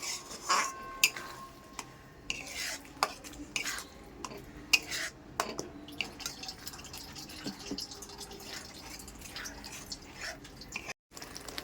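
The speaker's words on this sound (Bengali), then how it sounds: "দইটা দিয়ে এইবারে আমি নাড়িয়ে আস্তে করে দিলাম" Yogurt stirred gently into mutton in a pot, giving soft scraping and light clinks of a spoon against metal over a faint background, with scattered small drips and taps.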